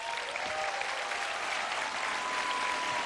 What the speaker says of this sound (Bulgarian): Аплодисменти за Криско, уважаеми дами и господа!